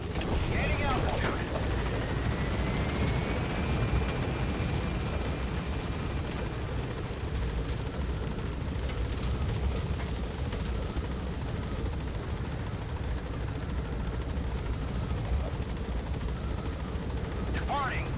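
A helicopter in Metal Gear Solid V lifts off from a landing zone and gains altitude, a steady loud rotor and engine roar with whooshing wind, with a voice briefly heard over it.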